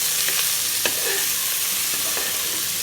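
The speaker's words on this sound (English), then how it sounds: "Let's mix now." Garlic, onions and tomatoes fry in a pan with a loud, steady sizzle, while a few scraping stirs come through on top; nobody speaks.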